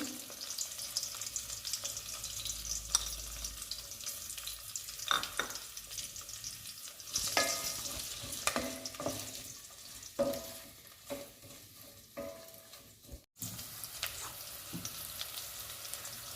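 Onions, green chillies and curry leaves fry quietly in a pan, a soft continuous sizzle with occasional scraping stirs and crackles.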